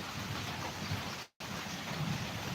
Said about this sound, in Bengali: আজ সকাল সকাল প্রচুর বৃষ্টি হচ্ছে